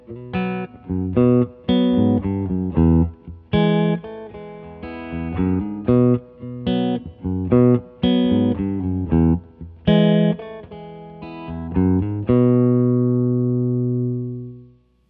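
Electric guitar, likely processed through effects, plays a riff as a solo run of plucked chords and single notes, loud and alone, finishing on a long sustained chord that fades out.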